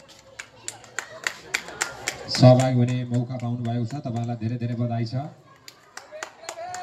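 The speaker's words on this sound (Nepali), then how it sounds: "जोरदार तालीले सम्मान गरिदिनु होला विद्यार्थी भाइ बहिनीलाई" Audience clapping honours students at a prize distribution for a school quiz competition at North Star English Boarding School, with steady scattered claps running under someone talking and a brief sustained tone in the middle.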